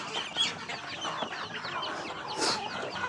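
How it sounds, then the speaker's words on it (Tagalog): Many chickens cluck and chatter together nearby on a rural island farm, a dense continuous flock sound with one brief louder squawk partway through. "Karaga ka ng manok. Ang daming manok."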